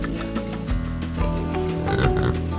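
Pigs on a small family farm with goats and kids oink and snort repeatedly at close range, grunting in short overlapping bursts over faint background noise.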